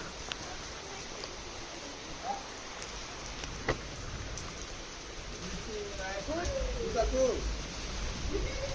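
Steady rain falls as a soft, even hiss with a few louder drips, close by and moderately quiet, while people talk over it.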